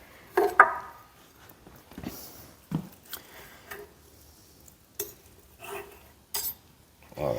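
A knife and fork work through a smoked ribeye roast on a plate, giving scattered clinks, scrapes and soft cutting taps at irregular intervals with quiet gaps, close by, with a little talk mixed in.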